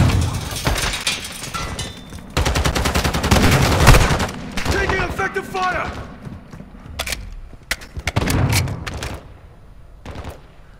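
Gunfire rages through a Call of Duty battle royale match: dense bursts of automatic fire and scattered single shots, loud and close, with thuds and brief pauses between volleys while a player talks over it.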